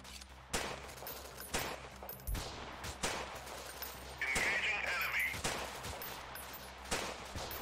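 Pistol shots ring out in the video game Freeman: Guerrilla Warfare as sharp, irregular cracks spaced a second or so apart over a low game ambience, with a voice talking quietly in between.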